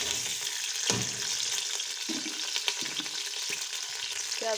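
Onions frying in oil with cumin, cinnamon and black pepper for mutton haleem, a soft continuous sizzle with occasional stirring knocks, fairly quiet and with no voices.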